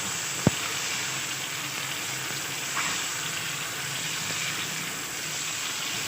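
Chicken frying with tomatoes in a karahi over a medium to high flame, a loud, dense, continuous sizzle with a brief sharp clack near the start, with no voices.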